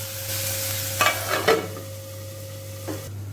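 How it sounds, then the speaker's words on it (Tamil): Tomatoes frying and being stirred in oil in a pan, a steady close sizzle with a few brief scraping stirs and utensil knocks near the middle, no voices. "தக்காளியை போட்டு நல்லா எண்ணெயில் வதக்கி விட்டுக்கலாம்."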